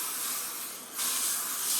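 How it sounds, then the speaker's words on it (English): A can of olive oil cooking spray hisses in a steady burst over a pan of chicken breasts, dipping briefly before a louder, brighter second spray. "here's the olive oil spray she can spray in there"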